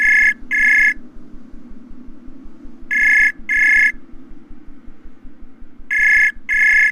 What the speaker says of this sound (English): Lots of ringing.